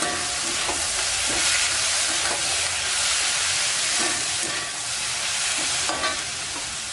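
Coriander chutney ingredients for a Chettinad-style chutney sauté in a pan with a steady, close frying sizzle and hiss, broken by repeated scraping stirs throughout.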